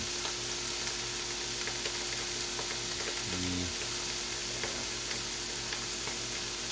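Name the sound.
steak searing in a frying pan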